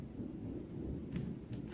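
A faint, low rumble of distant thunder rolls steadily through a stormy outdoor scene, soft and continuous with slight swells, and nobody speaks.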